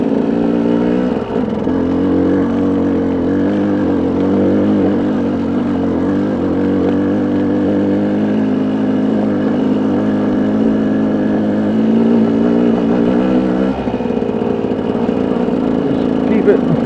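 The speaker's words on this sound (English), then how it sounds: "Just keep it in four-wheel drive, but just to let the ram idle." A Ram truck engine idles steadily in four-wheel drive while climbing uphill on a Colorado road with a truck camper, a loud, even drone throughout with a voice talking over it.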